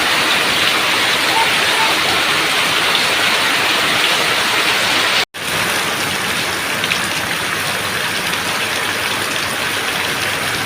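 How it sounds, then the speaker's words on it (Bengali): Heavy rain pours down steadily in a village, a dense, loud hiss that continues without letup. It cuts out only for a brief instant midway. "সেই জোরে বৃষ্টি নেমে গেছে।"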